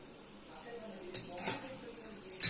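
A spoon stirs egg white into soya chunks in a bowl, making soft wet scraping and clinking sounds in a steady, close, moderate rhythm.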